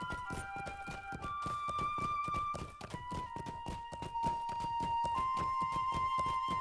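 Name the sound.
pony horse sounds from Lord of the Rings Online video game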